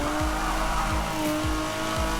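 A race car lapping Spa-Francorchamps gives a loud, continuous engine drone, broken every half-second or so by sharp dips and swoops as it shifts gears, with tire noise underneath.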